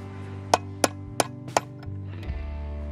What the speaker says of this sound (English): Then we're gonna tap that pin out with the hammer.